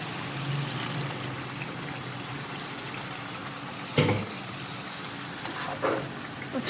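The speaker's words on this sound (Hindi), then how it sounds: "अब हम इसमें थोड़ा सा पानी ऐड करेंगे।" Water poured into a pan of frying shrimp karahi makes a steady, rushing stream that continues throughout, broken by a couple of soft knocks from the pan.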